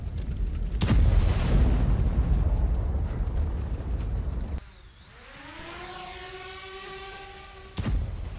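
Explosions from a Russian strike on Ukrainian army positions: a heavy boom opens into a long rolling rumble, a rising whistling tone follows, and a second sharp blast hits near the end.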